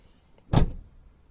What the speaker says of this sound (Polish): W tym momencie zamek się odblokowuje i możemy się dostać do samochodu.